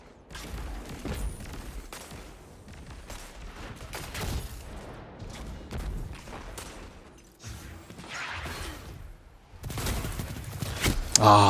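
Shotgun fire in a competitive first-person shooter, a string of punchy blasts and mechanical clacks scattered throughout, fairly close, with occasional quiet talk.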